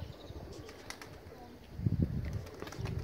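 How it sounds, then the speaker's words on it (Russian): Low, throaty pigeon cooing close by, with a soft background of other bird chirps and ambient noise. "И голубь это или голубка"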